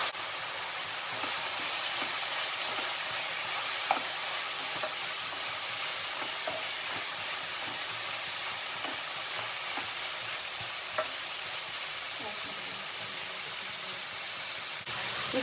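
Chana dal and chili powder fry in oil for a capsicum and potato curry, a steady soft hiss with faint intermittent stirring taps, close and quiet without speech.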